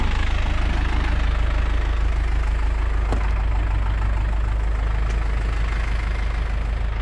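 A truck's engine idles steadily and close, a low continuous rumbling drone with no change in pace, accompanied by a faint click or two.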